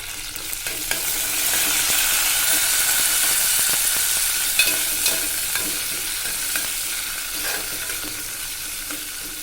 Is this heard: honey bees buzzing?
no